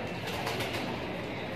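A big desi pigeon of the Muradabad breed coos close by, a soft continuous murmur over steady background noise.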